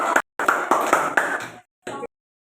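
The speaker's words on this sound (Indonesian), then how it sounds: "kasih tepuk tangan kelompok terakhir" Sixth-grade coding classroom applause for the last group after a robot activity, a short run of quick rhythmic claps that cuts off, then one brief final burst of clapping.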